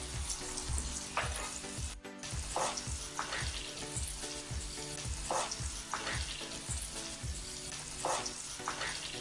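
Samosas deep-fry in oil while being turned round and round, a steady close bubbling sizzle with a rhythmic pulse of stirring passes repeating every second or so, and no talking.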